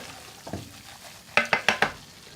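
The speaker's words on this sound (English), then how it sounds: "Let's give that a good stir." Frying spices and cashews stirred in a pan, a soft scrape followed by a quick run of four sharp spoon-against-pan clacks over a low background sizzle, close and alone.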